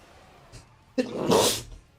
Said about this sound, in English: Sometimes you just gotta sneeze your face off.